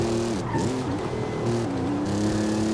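A modified, lifted off-road car in Forza Horizon 5 drives with a loud, steady exhaust note that rises and falls through revs, with some tire squeal mixed in.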